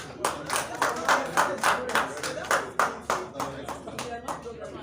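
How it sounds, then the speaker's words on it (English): Applause at a live dinner event in Lagos: a small group clapping in uneven bursts, fairly close, with chatter mixed in. "A round of applause."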